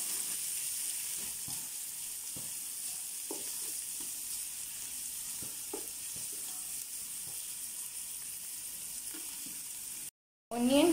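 Onions sizzle and fry steadily in hot oil in a pan for prawns masala, with occasional stirring clicks over a continuous, close frying hiss and a brief drop near the end.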